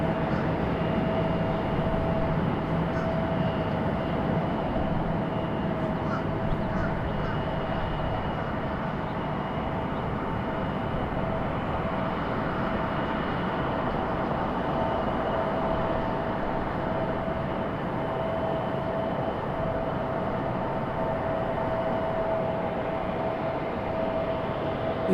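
Broad, steady jet roar of a Boeing 737 departing RDU airport, heard from a distance and sustained throughout with a faint whistle tone, with no talk over it.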